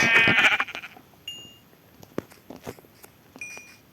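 Sheep bleating in Minecraft: a burst of several overlapping bleats opens, then fades into sparse soft clicks and small thuds, with a lone faint bleat near the end and no talk.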